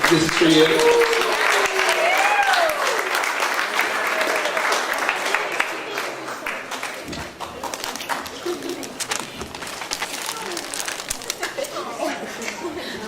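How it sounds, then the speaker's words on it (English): A large crowd at a fundraiser applauds steadily for several seconds, the dense clapping slowly thinning out, with scattered cheers and voices mixed in. "And everyone give a round of applause for Mrs. Sheehy, and this is for you."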